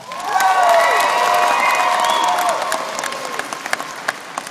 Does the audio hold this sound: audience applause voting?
yes